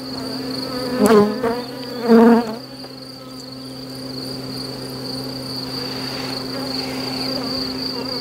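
A steady hum of honeybees fills the air at an opened hive during an inspection of a swarm's laying, with two brief louder buzzes as bees fly close past early on, then an even drone.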